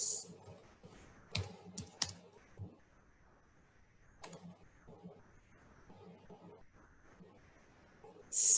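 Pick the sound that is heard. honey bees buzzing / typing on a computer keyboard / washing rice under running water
typing on a computer keyboard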